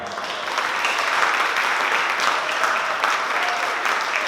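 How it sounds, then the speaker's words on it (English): A crowd at a conference talk breaks into sustained applause, a broad, even roar of many hands that swells after the first half second and holds steady to the end. "A round of applause for Nick Morrow."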